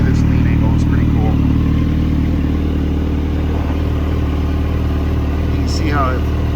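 A 2025 Kawasaki Z900 motorcycle idles up close with a steady, throbbing low engine note, loud and continuous throughout, with a few faint clicks and chirps over it.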